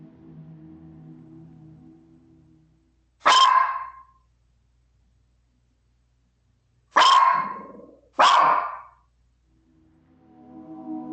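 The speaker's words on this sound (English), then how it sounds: "a dog can be heard barking at it angrily" A dog barks angrily indoors at night, three sharp, loud barks in all: one single bark, then a quick pair a few seconds later, each separated by silence, with a faint low droning hum before and after.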